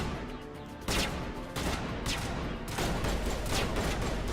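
Suppressing gunfire rattles through a firefight in Mass Effect: loud, dense bursts of rapid shots in repeated waves, with no voices over them.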